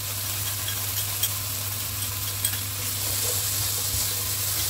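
Paprika is stir-fried in a pan of shrimp sauce, a steady close sizzle with a constant hum and a couple of sharp utensil knocks against the pan.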